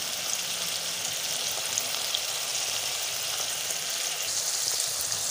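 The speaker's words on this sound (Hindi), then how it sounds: "ये देखें तो मसाले को हमने थोड़ा सा कर लिया है फ्राई।" Spices such as nigella seeds and fenugreek frying in oil for a fish dish, a soft continuous sizzle with faint crackles, steady and moderately quiet with no talk.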